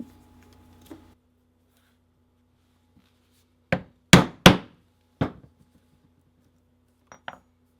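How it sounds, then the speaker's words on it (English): Sharp hammer strikes setting metal rivets through a leather cross-body strap over nylon fabric, a cluster of four loud, distinct blows followed by two lighter taps after a short pause. "So I'm going to get these riveted real quick"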